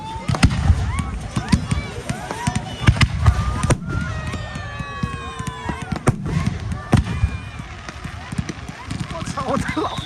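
Bonfire Night fireworks display at a school in Cambridge, heard as a stream of cracks and bangs with some whistling rockets, near and fairly loud, while people talk throughout.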